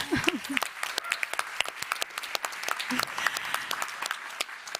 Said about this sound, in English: We can applaud them again, can't we?